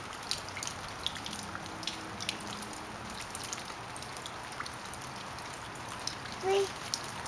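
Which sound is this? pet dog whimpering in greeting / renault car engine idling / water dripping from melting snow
water dripping from melting snow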